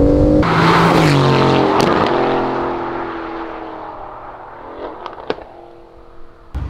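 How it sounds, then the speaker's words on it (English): Straight-piped 2019 Aston Martin Vantage V8, rebuilt after a wreck and tuned, roaring loudly as it accelerates through the gears, revs climbing in strong sweeps before easing off and fading, with a few sharp clicks near the end. "it's now Hannah's turn to unleash the Aston Martin V8"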